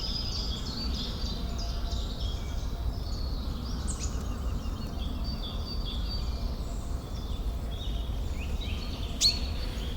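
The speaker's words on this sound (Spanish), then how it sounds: "Continúa escuchando el canto de los pájaros mientras tu mente se expande en la vastedad del bosque." Birds sing in a forest, thin high chirps and trills scattered across the stretch, fairly faint over a steady low ambient hum.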